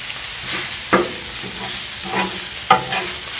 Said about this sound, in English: So basically I'm just heating up some onions here